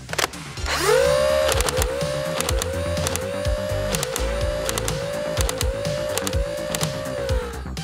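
A modded Nerf AUG Fortnite B-AR blaster on a 3S LiPo fires full auto. It gives a loud, close run of rapid mechanical bursts, each with a rising motor whir, in a quick repeating rhythm.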